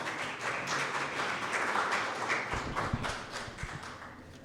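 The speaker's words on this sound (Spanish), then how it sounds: "Un fuerte aplauso" Audience applause at a social vulnerability seminar, a steady patter of many hands clapping in a hall, moderately loud and fading slightly toward the end.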